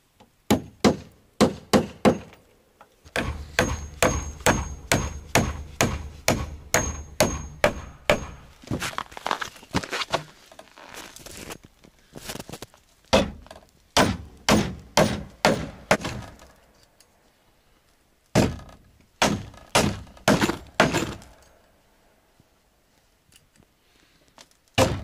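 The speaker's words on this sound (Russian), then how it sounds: "Блин, гвозди-то остались у нас. Не очень хорошие. Сейчас выпрямлять будем." Old nails are hammered straight with sharp, loud metallic blows in fast rhythmic runs, broken by short pauses between bursts, close by and with no talking.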